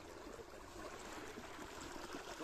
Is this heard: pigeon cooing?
no